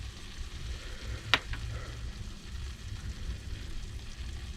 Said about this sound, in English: now we're going to add our can of diced tomatoes with the juice